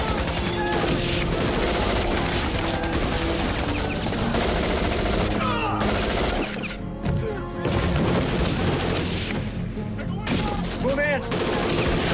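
Rapid, dense gunfire fills a television crime drama shootout, with loud overlapping bursts and booms running continuously, shouted voices mixed in.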